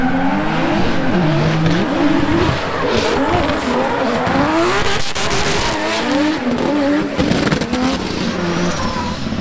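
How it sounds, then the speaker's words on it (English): Tandem drift cars at practice, loud engines revving and wailing continuously while tires squeal and skid throughout, with a sharp burst of tire noise midway and no talk. "watch some drifting at the same time"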